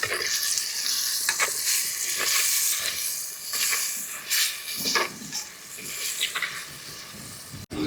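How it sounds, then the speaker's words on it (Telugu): Egg curry being stirred in a pan, with a steady sizzle and hiss of frying under repeated scraping strokes of a spoon, loud and close, with no talking. "కొంచెం అట్లా ఒకసారి తిప్పుకుందాం"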